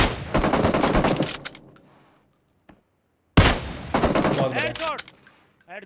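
Automatic gunfire in the mobile battle-royale game PUBG Mobile comes in two loud, rapid bursts separated by a brief silence.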